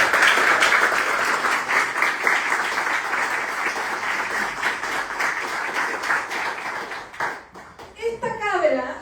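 Audience applause at a book event in Valparaíso fills the room with dense clapping that gradually thins out and fades, giving way to voices talking near the end.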